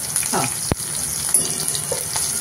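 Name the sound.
turmeric and asafoetida added to hot oil for tempering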